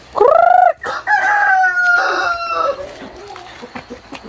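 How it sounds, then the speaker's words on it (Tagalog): A rooster crows loudly nearby, followed by another drawn-out crow and scattered clucking from chickens close by. "Ayun na, guys, mga manok."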